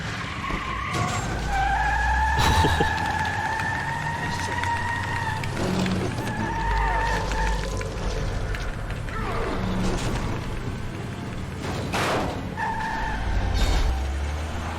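Tires squeal in long, loud skids from a car in The Wolf Among Us video game, several drawn-out screeches over engine noise, with voices talking in the background.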